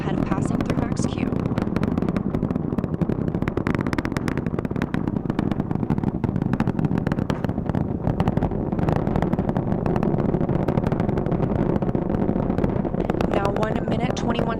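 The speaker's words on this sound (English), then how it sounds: "The 4 core stage engines are back at maximum thrust." NASA's SLS rocket core stage engines roar during the Artemis 1 launch, with a loud, continuous crackling rumble lasting the whole stretch while a voice talks over it.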